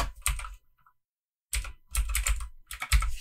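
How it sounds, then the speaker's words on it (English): Short bursts of typing on a computer keyboard, rapid clicky keystrokes in three quick clusters separated by brief pauses, close and fairly quiet. "You just click and type your text."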